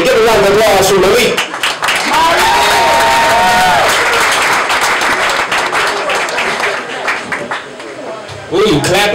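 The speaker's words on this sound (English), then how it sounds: "Give a round of applause for Melik." An audience at a jazz series comedy set applauds steadily for several seconds, a dense wash of clapping with voices talking over it at the start and end.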